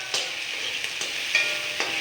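Curry fries gently in a pan on a low flame, a soft continuous sizzle broken by a few light stirring clicks and scrapes close by.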